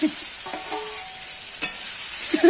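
A spatula scrapes and stirs food frying in a pan just before pasta is added, giving a few uneven scraping strokes over a soft, steady sizzle close by.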